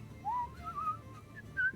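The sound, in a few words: whistling imitating an ogre whistling while working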